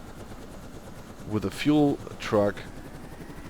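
A Seahawk helicopter in a video game gives a constant low engine and rotor drone that runs beneath a voice throughout.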